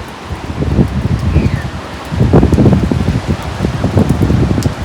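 Rain falling on a seaside beach, a dense, steady patter and hiss with gusts of wind, fairly loud and continuous, with no voices.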